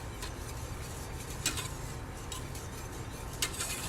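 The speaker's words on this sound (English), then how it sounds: "just standing and stirring" A tart filling is stirred in a pot, giving soft, quiet scraping with occasional light clinks of the utensil against the metal over a low background hum.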